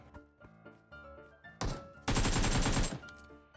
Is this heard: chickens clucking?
no